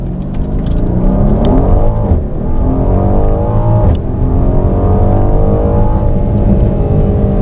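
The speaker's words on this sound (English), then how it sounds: "that 4-litre bi-turbo V8 puts out 375 kilowatts or 510 horsepower" A Mercedes-AMG GLC 63S with a 4.0-litre bi-turbo V8 of 510 horsepower accelerates hard, its loud, close engine note climbing through the revs with a brief dip between gears, and no one talking.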